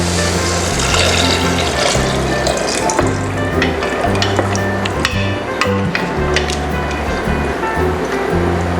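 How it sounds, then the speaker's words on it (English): Water added to pasta frying in a pressure cooker gives a loud, continuous sizzle and hiss with bubbling, steady throughout and without talk. "Once we've added in our pasta, it's time to add 2 cups of water."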